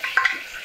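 Ginger garlic paste stirred and fried in a pan of masala over very low heat for mutton biryani, a soft steady sizzle with a couple of brief scraping stirs, close and fairly quiet.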